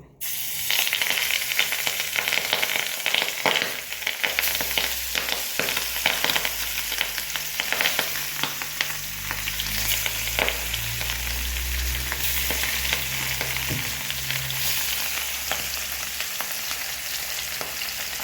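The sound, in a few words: fish frying in hot oil in a frying pan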